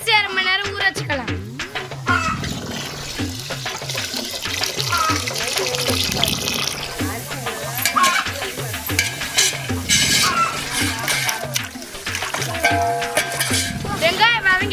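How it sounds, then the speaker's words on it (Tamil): Onions sautéing and being stirred in a pot for a village-style jackfruit biryani, with steady sizzling and scraping strokes of a spoon, joined by running water and music-like tonal sounds over most of the stretch. "வெங்காயத்தை பொன்னிறமா வர வரையும் வதக்கிக்கலாம்."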